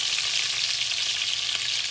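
Ground beef meatballs fry in a pan with a steady, close sizzle and crackle of hot fat that holds constant and loud throughout, with no voices.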